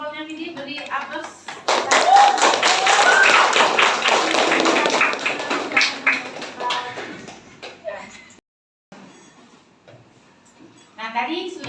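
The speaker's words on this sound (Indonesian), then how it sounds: "Terima kasih untuk kelompoknya Vidi, beri aplaus" Classroom audience applauding a student group, a burst of dense clapping lasting several seconds and fading out, then quiet before a teacher's voice resumes.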